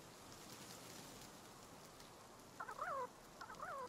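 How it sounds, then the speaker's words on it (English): Chickens clucking in the video game Palworld, two short, clear calls near the end over a steady hiss like rain. "There's chickens."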